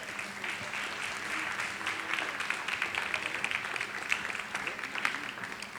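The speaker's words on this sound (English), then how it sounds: "let's give a warm welcome and a big round of applause to Simon" Audience applause welcomes a guest artist at a glass art demonstration, a moderate, continuous patter of clapping with a few sharper claps standing out.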